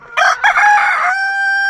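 A single rooster crows once at close range, a loud, bright cock-a-doodle-doo with a sharp start and a long sustained tail.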